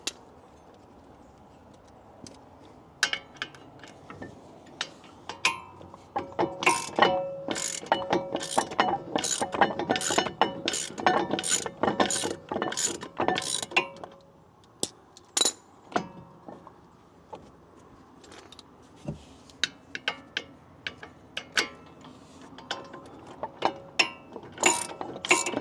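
A ratchet loosens a front brake bolt on a 2015-2023 Ford Mustang GT, making a long run of rapid, close ratcheting clicks with brief metallic clinks. It pauses midway, then resumes in sparser bursts.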